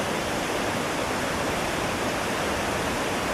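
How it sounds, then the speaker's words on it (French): A mountain river in Uttarakhand, India, rushing and splashing over rocks: dense, steady roaring water noise, close and loud, without a break. "le babil volubile de cette rivière qui saute joyeusement d'un rocher à l'autre"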